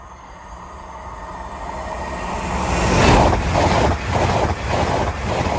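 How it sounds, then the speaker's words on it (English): A TransPennine Express train from Newcastle to Liverpool Lime Street passes a level crossing, a rushing rumble that builds to a loud peak, then rattles with rhythmic wheel beats as carriages go by, with wind buffeting the microphone. "Next service pass through is Newcastle Liverpool Lime Street service,"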